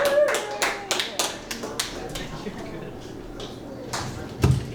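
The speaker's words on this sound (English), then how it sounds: "Big round of applause for this next guy coming to the stage" A small comedy-club crowd gives scattered hand claps as a comedian is brought to the stage in Pittsburgh, sharp individual claps near the mic that thin out into a few stray taps, with a short vocal cheer mixed in.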